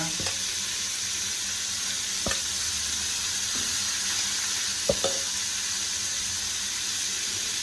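Large prawns sizzle on a hot dosa griddle, a steady broadband hiss running throughout with a few sharp clinks of a spatula scraping the iron, no talking.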